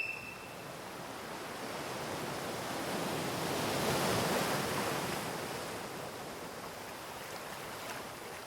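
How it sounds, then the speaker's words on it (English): Ocean waves rolling and washing onto a shore, a broad steady hiss of surf that swells to a peak midway and then eases off, with no talking. "Listen to the waves."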